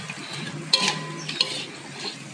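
A spoon stirs chicken rica in a pan with a little sweet soy sauce, giving soft scraping and a couple of sharp clinks over a low sizzle, with no talk.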